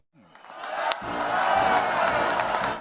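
Friendly union crowd cheering and applauding as President Biden arrives for a speech, a swelling roar of voices and claps that builds and holds, with brief narration at the very start.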